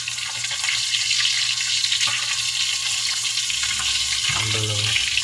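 Food fries in a pan for breakfast with a steady close sizzle and crackle, while a low hum and brief clatter of the pan come through near the end.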